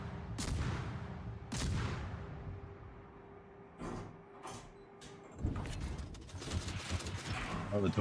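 Ship guns firing in the naval video game World of Warships, several sharp booming salvos spaced apart, each with a decaying rumble, followed by denser clattering bursts toward the end. No one speaks.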